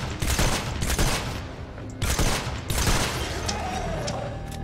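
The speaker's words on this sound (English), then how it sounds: "You can see how less damage this purple sniper rifle is doing." A purple sniper rifle in Fortnite's Plankerton missions fires a series of loud, heavy shots at irregular intervals, each followed by a rumbling decay, over faint background game noise.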